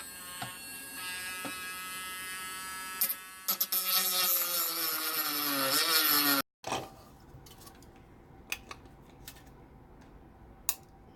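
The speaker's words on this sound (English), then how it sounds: "out comes the Dremel, and we're going to try to cut these down" Dremel rotary tool grinding through plastic robot parts: a high, whining cut rising in pitch for several seconds, then a sudden stop, followed by scattered light clicks and handling taps.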